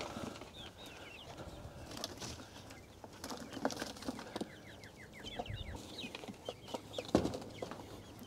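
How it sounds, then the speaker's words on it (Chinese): Young chickens cluck and peep softly and repeatedly nearby, with light rustling and occasional louder bumps in the background. "把小鸡搬过来，看看它们喜不喜欢这个新家。"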